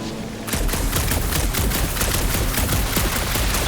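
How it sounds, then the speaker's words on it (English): Sustained burst of gunfire aimed at a gunked-up reactor in the PS5 Guardians of the Galaxy game, a dense, loud fusillade of rapid shots with no pause after a brief quiet start. "A couple of shots should bring it down."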